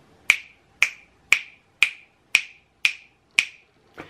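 One person snaps their fingers eight times in an even, steady rhythm of about two snaps per second. Each snap is crisp and close, with silence between them and no talk.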